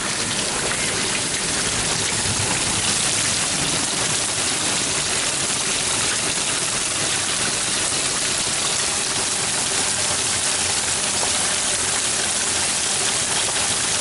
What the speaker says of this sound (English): The water's flowing through. You can see it across there coming out my backyard.